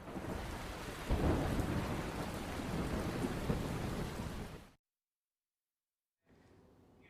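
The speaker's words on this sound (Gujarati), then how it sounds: "અમરેલીમાં વરસાદી ધડબડાટી જોવા મળી" Loud, dense downpour with deep rumbling thunder in Amreli, cutting off abruptly into silence before faint rain returns.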